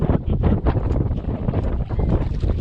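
Steady wind buffets the microphone beside Glenn Springs Lake during catfishing, a loud, continuous rumbling gust with no talking.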